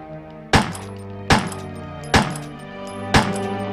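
Four sharp gunshots from the Resident Evil 1 game, evenly spaced about a second apart, each a loud close crack with a ringing tail, no talking.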